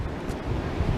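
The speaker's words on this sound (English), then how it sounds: "It's very windy right now" Strong wind outdoors on a snowy walk, a rough roaring gust buffeting the microphone for a brief moment.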